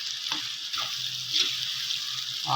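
Mustard-seed tempering for ridge gourd peel chutney crackles and sizzles steadily in hot oil, a bright continuous frying hiss with a few soft pops, no talking.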